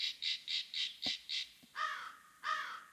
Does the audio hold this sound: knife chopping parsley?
no